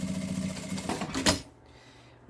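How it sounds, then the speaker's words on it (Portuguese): A sewing machine stitches a double fabric wallet in a quick run of close, rattling needle strokes that stop abruptly, leaving near silence. "vou costurar o outro ladinho"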